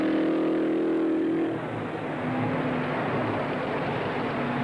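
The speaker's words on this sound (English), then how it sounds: "Following him onto the track is Jim Hurtubise in the famous Novi supercharged V8." A famous Novi supercharged V8 race car at the Indianapolis Speedway in 1963, a loud steady engine drone with a shifting pitch as it runs onto the track, heard fairly close and alone.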